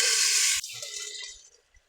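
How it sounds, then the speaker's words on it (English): Water runs and splashes as red peas are rinsed, then cuts off abruptly, leaving a few soft drips and small clinks. "First, I'm going to wash a cup of red peas."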